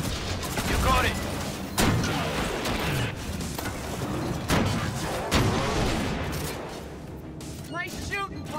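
Gunfire in the shooter game Disintegration, repeated loud bursts and booming shots throughout, layered with battle noise and mechanical effects while voices talk over the action.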